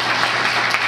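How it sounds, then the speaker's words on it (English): Dense, even applause from an audience at a youth congress in Cebu City, continuous and moderately loud for a brief moment with no pauses. "let's give a round of applause to our project chairman, Mr. Salon"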